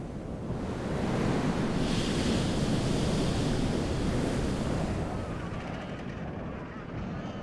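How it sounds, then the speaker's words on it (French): Strong wind roars over continuous crashing surf on an Antarctic island, a dense, loud rushing noise that swells and holds steady throughout. "De l'autre côté de l'île, le vent fait rage."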